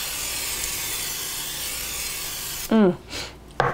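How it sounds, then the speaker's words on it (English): A steady, hissing spray from an olive oil pump sprayer runs for a few seconds, then stops abruptly and a voice begins speaking close by. "We want to spray these vegetables, and then we're also going to use it to spray our flank steak."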